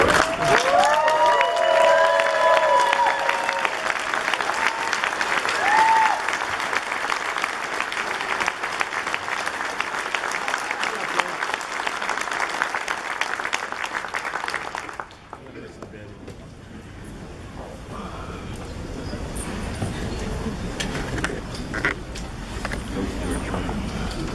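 A standing audience at an association officers' ceremony breaks into loud, sustained applause with a few faint voices over it, then the clapping cuts off abruptly partway through, leaving quieter room noise and scattered sounds.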